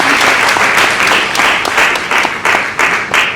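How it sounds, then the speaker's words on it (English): A book launch audience claps loudly and close in a full, lively burst of applause, with individual hand claps standing out in a steady, continuous patter. "A round of applause for her."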